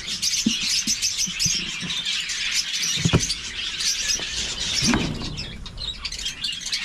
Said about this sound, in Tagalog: Patuloy po yung pagdami sa ating mga ibon dito, sa ating mga African lovebird.